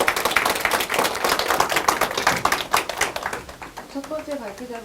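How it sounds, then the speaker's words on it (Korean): An audience claps steadily after a lecture at an integrity-training competition event. The applause is dense, close and sustained, then thins out as a speaker begins talking. "다시 한번 큰 박수 부탁드리겠습니다"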